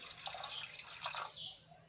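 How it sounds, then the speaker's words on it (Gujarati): A quiet stream of water pours into a metal pressure cooker holding chickpeas, with a hollow splashing that trails off toward the end. "અને બીજું થોડુંક આપણે પાણી ઉમેરશું ચણા ડૂબે એટલું"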